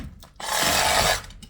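Saw blade rasping through scrap metal, a single steady cutting stroke close by that swells in and fades out after about a second, with no talk.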